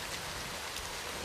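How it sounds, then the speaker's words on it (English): Steady, dense rain pours down outdoors in a loud, even hiss, with no voices or other sounds breaking through. "The rain!"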